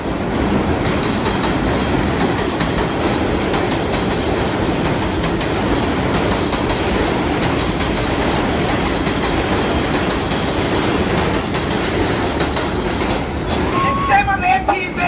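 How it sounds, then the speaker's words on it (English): A loud, continuous roar of a New York subway train rushing past nearby, wheels clattering, with a brief high squeal near the end. "just as the train went by"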